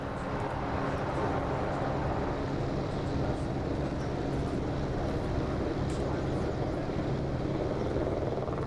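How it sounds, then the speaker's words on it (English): A helicopter flies overhead during a live news broadcast of a world-record stunt, a steady, fairly faint rumble and whir that continues throughout. "Good shot of the helicopter there."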